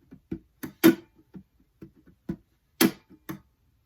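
Slow percussive hits on an acoustic guitar in a live looping arrangement of a song: dull body slaps and a couple of sharper muted strums, spaced irregularly with quiet gaps between them.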